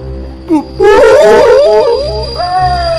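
A jackal howls in a horror-story soundscape, one long loud wavering howl rising and bending close up, preceded by a short yip and trailing into a second thinner drawn-out cry.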